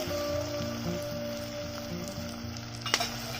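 Garlic fries in oil with onion in a clay pot for a fish curry. A soft, steady sizzle carries on throughout, with a few light stirring scrapes and a brief clatter near the end.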